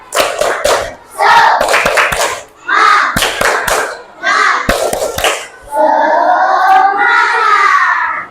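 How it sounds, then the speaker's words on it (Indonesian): Fourth-grade pupils repeat a rhythmic spirit clap in class: quick clusters of hand claps mixed with children's voices chanting together, ending in a sustained shouted call. "Lagi tepuk semangat."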